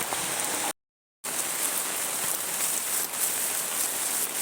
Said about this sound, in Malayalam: ഇവിടെ ഭയങ്കര മഴയാണ്